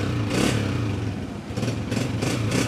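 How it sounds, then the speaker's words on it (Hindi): A 2012 Honda 125 motorcycle engine revs up close, a loud rough idle swelling into several short throttle bursts with a clattering exhaust note. "कड़क साउंड है, बहुत अच्छे साउंड में होंडा बोल रहा है।"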